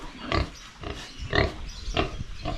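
Farm pigs grunt and squeal in a few separate loud bursts, roughly every half second to second, against a quiet barn background.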